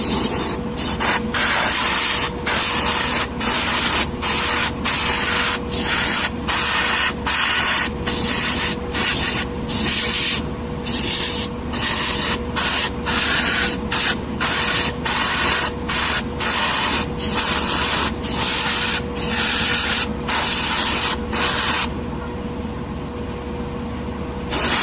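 A Harder & Steenbeck Infinity CR+ airbrush sprays a mist coat in a steady close hiss, broken by regular short pauses as the trigger is released, continuing throughout.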